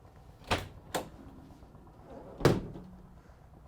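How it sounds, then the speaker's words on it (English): Rear twin barn doors on a 2016 Vauxhall Vivaro van open with a pair of quick latch clunks, then a heavier thunk a moment later, close by and with no talk. "twin barn doors on the back here,"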